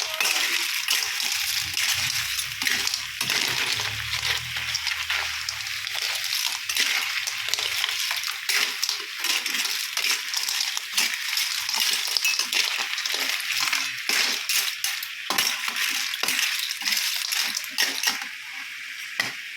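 Abalone being stirred in a pan, a continuous wet sizzle with clinking, scraping utensil strokes and bubbling liquid, steady and close for the whole stretch.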